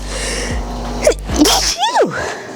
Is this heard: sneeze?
yes